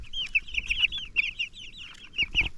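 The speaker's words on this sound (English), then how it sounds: "this chicken right here is one of our Polish chickens" Clucking from a Polish chicken, a crested egg-laying breed, on a pasture farm: a quick, repeated run of short clucks that stays close and fairly loud over a steady low rumble of background noise, with no voices.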